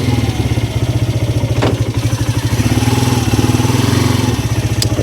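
Polaris 300 ATV engine running after a carburetor repair, a close, steady, pulsing idle with slight clatter and a few brief knocks.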